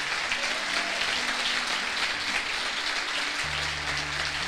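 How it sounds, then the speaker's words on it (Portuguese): Church congregation applauding during a service, a dense, even roar of many hands clapping throughout, with a low sustained musical tone entering underneath near the end. "Quem ama o Senhor Jesus, dá um aplauso maravilhoso aí a Ele"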